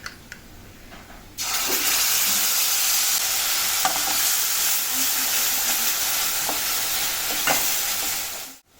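Loud, steady sizzling of a yogurt and spice mixture frying in hot oil on high flame for a mixed sprouts curry, starting abruptly after a quiet moment and continuing with occasional stirring clicks.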